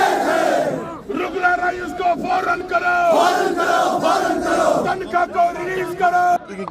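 A large crowd of casual labourers chants in unison at a street protest, loud and continuous with rhythmic rising calls and a few brief dips.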